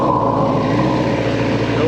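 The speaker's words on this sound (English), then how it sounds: "I'll just give it some throttle." A 40-year-old motorcycle engine idling low and being given a little throttle, a steady close mechanical drone with a rising tone under a person talking.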